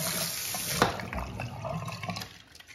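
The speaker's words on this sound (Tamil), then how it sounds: "இதை வந்து நான் வாஷ் பண்ணி காமிக்கிறேன் எப்படி நுர வருது" Hands being washed with homemade soap under a running tap, a steady splashing water stream close by with brief louder splashes, no talking.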